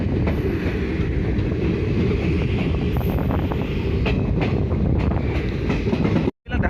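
Steady rumble and rhythmic wheel clatter from inside a moving passenger train on the Chhaygaon to Bongaigaon line in Assam, loud and continuous with wind buffeting, cutting out abruptly near the end.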